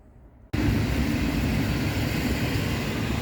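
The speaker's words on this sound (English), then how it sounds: "We are lucky to have another long distance train arriving. This one is called Podlasiak, with the Griffin engine and some compartment cars" The Podlasiak long-distance train, hauled by a Griffin locomotive with compartment cars, arrives at Tłuszcz station in Poland. A loud, dense rumbling roar starts abruptly after a brief quiet moment and holds steady.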